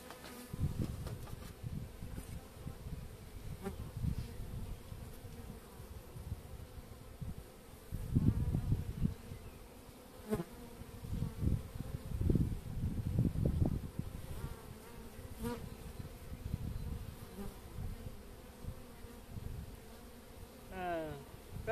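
Honey bees buzzing around a hive frame during a supersedure queen check, a soft continuous hum with louder swells as individual bees fly close past.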